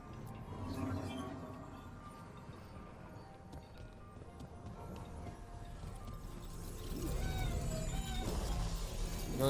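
A kitten meows in the video game Dragon Age: The Veilguard, small repeated mewing calls heard faintly among game ambience, footsteps and clopping sounds.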